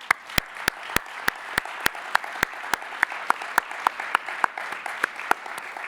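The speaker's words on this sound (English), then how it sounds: "let's give them a round of applause" Audience at a plenary conference session applauds the meeting's sponsors and exhibitors, with a steady run of sharp, fairly close claps over a soft wash of wider applause, continuing evenly for several seconds with no talk.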